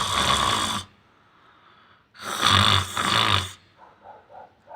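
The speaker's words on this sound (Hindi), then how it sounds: "मौसी जी तो यहाँ पे जोर जोर से खर्राटे ले रही हैं।" Loud snoring from an aunt asleep at night, two long rasping snores with a quiet gap between them, followed by a few softer breathy puffs, close and without talk.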